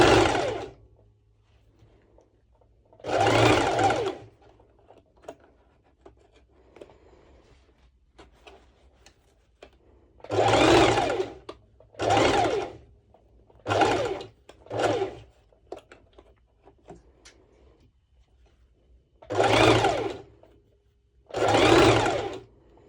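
A sewing machine stitches along a cutout piece of a swimsuit in a series of short whirring runs separated by pauses, close and clear with no talk.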